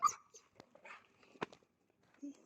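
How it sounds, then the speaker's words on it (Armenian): Two dogs make faint, brief yips and a whimpering bark at close range, scattered over a few quiet seconds. "սկսում են հաչալ երկուսով"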